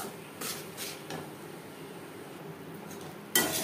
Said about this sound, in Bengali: এভাবে নাড়াচাড়া করে দিতে হবে, না হলে তলা লেগে যাওয়ার সম্ভাবনা থাকতে পারে